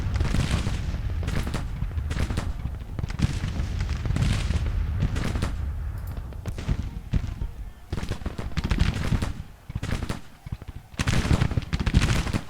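Dense, sustained gunfire from the Civil War strategy game Grand Tactician: rolling volleys and rapid overlapping shots, loud and nearly continuous, with a few brief lulls between heavy bursts.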